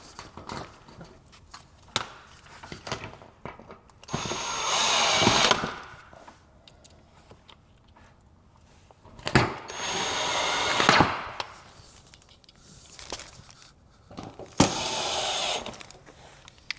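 A power tool drives the bottom screws back in, giving three separate whirring bursts of a couple of seconds each. Softer handling clatter and faint knocks fill the quiet stretches between them.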